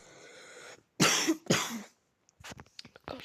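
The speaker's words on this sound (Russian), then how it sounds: "Кашель громадный." Two heavy, harsh coughs in quick succession from a man inside a video game, followed by fainter scattered clicks and short game noises.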